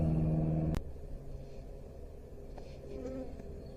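A low insect drone hums steadily after a brief clunk at the start, a soft buzzing of honey bees at a hive in a forest apiary that keeps going close by.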